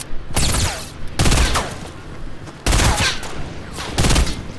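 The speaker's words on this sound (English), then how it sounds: "they're all trying to snipe me" Sniper shots in Fortnite: four loud, sharp cracks, each followed by a long echoing tail, spaced about a second apart and heard close with no talk.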